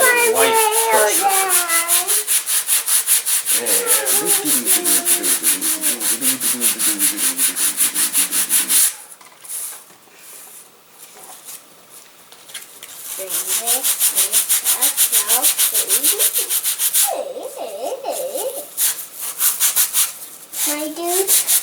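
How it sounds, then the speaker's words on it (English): A wooden part of a Freedom Flight Models elastic-launched glider is hand-sanded in steady, rapid rubbing strokes that pause briefly partway through, while a child and an adult talk over it. "you want to sand only really, really close to your fingers and really light pressure"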